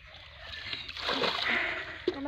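Water is stirred by hand in a village setting, giving a soft swirling slosh that builds and then eases over a couple of seconds, ending with a brief splash. It sounds close and fairly quiet.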